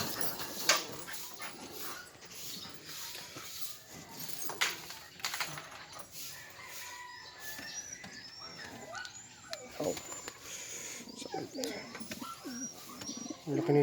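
Pigeons that have just laid eggs coo faintly and irregularly close by, with scattered soft calls and rustles, and someone speaks quietly at moments.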